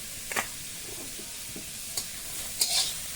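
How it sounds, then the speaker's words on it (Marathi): Onion frying in a pan for red lentil dal, a faint steady sizzle under light scraping and stirring, with a few sharp clicks of a utensil against the pan, no talk. "पहिला कांदा टाकून भाजून घेते मग त्याच्यामध्ये तेल सोडते"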